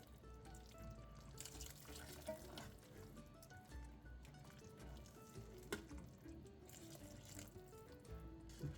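Vegetable stock pours into a pot of potato and leek soup, a continuous splashing, gurgling stream of liquid heard up close for several seconds.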